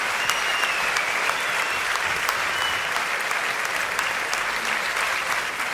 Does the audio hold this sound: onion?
no